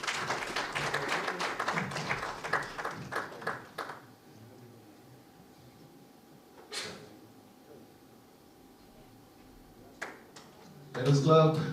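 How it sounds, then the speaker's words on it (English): Audience at a report launch for Kenya's NPO sector clapping, a dense burst of applause for about four seconds that fades to scattered claps, then a few isolated claps and a short renewed burst at the end. "All right, let's keep on clapping."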